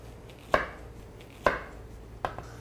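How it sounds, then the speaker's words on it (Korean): A knife cuts through halved zucchini on a cutting board, making three distinct, evenly spaced thuds close by, with no talking. "애호박 반 가르시고, 이렇게 썰면 씹었을 때 식감이 좋고 단맛도 나고 좋아요"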